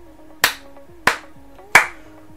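Three loud, sharp hand claps ring out alone, evenly spaced about two-thirds of a second apart.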